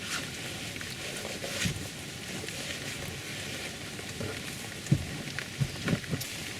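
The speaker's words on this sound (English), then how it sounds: "It's raining harder and harder." Heavy rain falls steadily in a soft, diffuse patter, fairly faint and distant, with a few louder knocks and thuds near the end.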